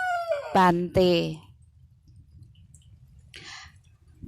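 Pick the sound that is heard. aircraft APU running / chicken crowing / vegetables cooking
chicken crowing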